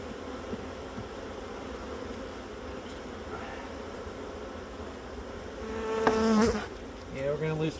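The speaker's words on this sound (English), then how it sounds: "we're gonna lose some bees out of the swarm." A swarm of honeybees clustered on a fence drones in a dense, continuous buzz close by, swelling louder toward the end, with faint voices and handling noise in the background.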